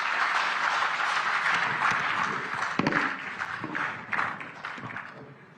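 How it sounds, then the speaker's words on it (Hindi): Audience applause for Haryana's chief minister Nayab Saini at a project launch event in Panchkula, a dense burst of clapping that thins out with scattered louder claps toward the end. "तालियां जरा जोरदार आप सबकी तरफ से।"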